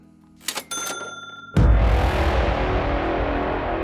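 A cash register sound effect plays as a super chat alert on a livestream: a couple of quick mechanical clicks and a bell-like ding, then a louder burst of sustained noise, with no talking.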